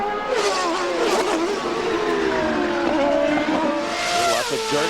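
Turbocharged 2.65-liter CART race car engines roar steadily at close range during 2002 qualifying at Road America, reverberating off trees, pitch rising and falling as they pass, with a faint tire squeal mixed in.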